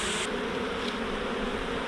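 Honey bees buzz around an open hive during a February brood-nest inspection, a continuous close, dense drone of many wings humming steadily with no voices.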